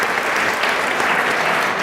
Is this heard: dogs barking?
no